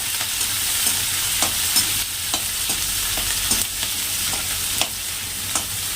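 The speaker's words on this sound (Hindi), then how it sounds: "फिर डालूंगी इनमें प्याज और हरी मिर्च। इनको शैलो फ्राई थोड़ा सा करेंगे।" Onion and green chillies shallow frying in oil, a loud, continuous sizzle with rhythmic scraping strokes of a spatula stirring the pan every half second or so; no one speaks.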